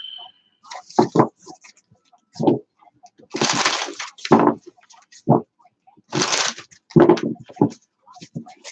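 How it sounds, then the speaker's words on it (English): A deck of tarot cards being shuffled by hand in short, crisp bursts of riffling and slapping, close and fairly quiet, separated by brief silences, with a voice speaking now and then. "One more shuffle."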